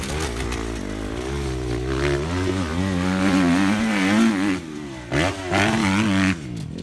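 A 2018 Kawasaki KX250F motocross bike engine revs continuously, its pitch rising and falling in rapid throttle blips, loud and close, with brief dips near the end.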